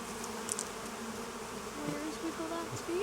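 Honeybees buzz across a hive frame, a soft, close, continuous drone with a few brief rising whines from individual bees passing near, and no talking.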